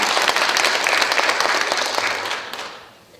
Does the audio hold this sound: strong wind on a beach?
no